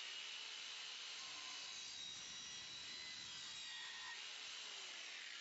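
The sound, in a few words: DualTools CS450 saw cutting copper pipe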